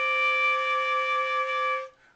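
Flute multiphonic sounding a ninth, C natural and D natural together, played with the regular third-octave D fingering as a steady, bright sustained tone of nearly two seconds with no talk.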